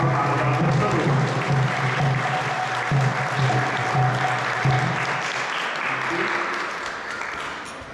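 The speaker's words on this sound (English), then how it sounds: "So please join me in giving a thunderous round of applause for Mahabhagavad Prabhu." A large audience at an ISKCON Toronto Sunday Love Feast gives a sustained round of applause, loud and steady for several seconds before tapering off, with a low hum and some voices underneath.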